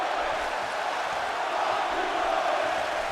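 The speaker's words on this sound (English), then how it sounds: "can you hear this crowd? This is a pro SmackDown Live crowd." A packed arena crowd in the WWE 2K17 wrestling game cheers through a SmackDown Live match between AJ Styles and Roman Reigns, a steady, loud, unbroken roar with no voices standing out.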